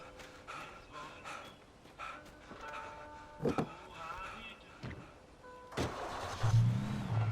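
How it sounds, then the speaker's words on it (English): A car in the video game Alan Wake Remastered starts up and pulls away, a low engine hum rising in a few revs, moderately loud under faint game sounds. "I think we'll pick up a car this time."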